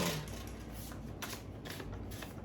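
Cards riffle and shuffle in quick, continuous bursts of papery flicking, close by and fairly quiet.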